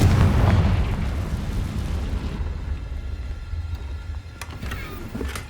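A Confringo spell bursts in Hogwarts Legacy, a loud rumbling blast at the start that rolls off into a fading boom and lingering debris crackle, followed by a few faint sharp pops.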